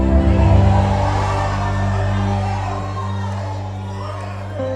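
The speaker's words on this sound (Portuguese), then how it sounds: "Posso ouvir aquele grito que acorda a cidade inteira?" Large church congregation shouting and cheering together, a loud, dense roar that fills the space and holds steady, easing slightly toward the end.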